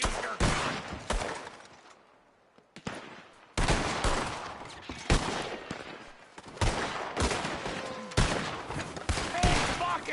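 Gunfire in Red Dead Redemption 2: repeated loud bursts of shots and volleys across the stretch, with a brief quieter lull near the start and game voices mixed in.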